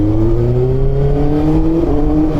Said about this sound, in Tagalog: Ang sarap talaga nitong iharurot ni 6R